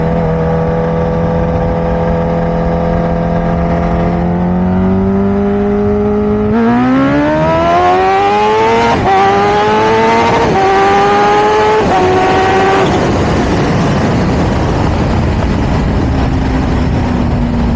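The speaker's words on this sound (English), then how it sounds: "I seen the shift right that time, as I hit the rev limiter" A street racing car roars loudly and close as it accelerates hard, its engine pitch climbing and dropping with each quick gear shift before it settles into a rough, limited high-rev drone.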